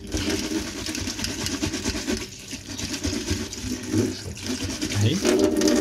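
Tap water runs steadily while a G-Shock watch is scrubbed with a loofah, a soft continuous splashing and rushing with small knocks and handling noises close by.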